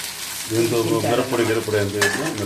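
Potatoes fry in a pan while being stirred. A low, steady sizzle runs through the whole clip, with repeated scraping from the stirring. The sound is close and fairly loud, and no one speaks.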